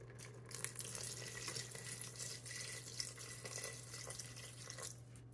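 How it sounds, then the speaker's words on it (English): One cup of water poured into an Instant Pot, making a faint continuous pouring and hissing sound with a low steady hum beneath it and no talking. "Okay, so then we're going to do 1 cup of water."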